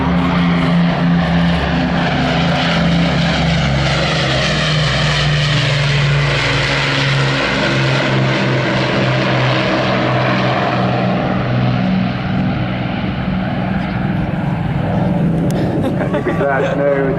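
Avro Lancaster bomber passing overhead at an air show, its four piston engines and propellers droning loud and steady for the whole stretch, then fading slightly toward the end.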